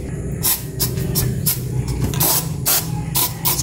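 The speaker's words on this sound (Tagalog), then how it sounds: "Spray ng langgam." Insecticide spray aimed at ants indoors, giving a series of short hissing bursts in a loose rhythm, close and fairly loud.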